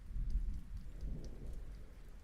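Low, rolling thunder rumbles under a soft steady patter of rain, fairly quiet and continuous with no voices.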